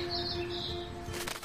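A bird in the video game Life Is Strange flaps its wings and flies off, a brief fluttery burst near the end over a steady hum of ambient game music and faint chirps.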